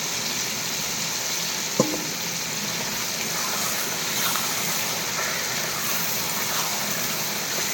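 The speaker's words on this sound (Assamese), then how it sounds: "এই মাংসটো কেৰাহীত দিলো তেল গৰমত এটা মাংস ভাজো" Goat meat fries in hot oil in a kadai with a continuous, even sizzle at close range, broken by one sharp clink partway through.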